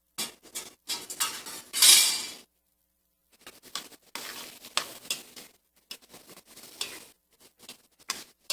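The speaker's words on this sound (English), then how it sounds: "you want to let that saute for about 5 minutes or so" Tofu gumbo ingredients sauté in a pot with a soft sizzle. A utensil scrapes and clatters in short, irregular bursts of stirring, separated by brief quiet gaps, all close and fairly faint.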